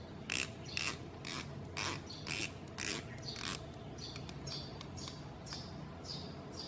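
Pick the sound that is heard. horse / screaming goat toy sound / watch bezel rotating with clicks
watch bezel rotating with clicks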